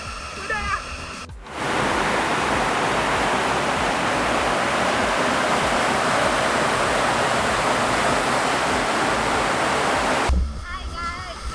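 Nanny Falls waterfall in Jamaica roars as a steady, loud, broadband rush of falling water, close and continuous, with brief muffled moments at the start and end.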